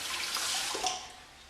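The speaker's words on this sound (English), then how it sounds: "just let the water run down the drain and perform a quick rinse" Tap water running into a bathroom sink and down the drain after a safety razor shave, a steady close hiss of flowing water with no talking.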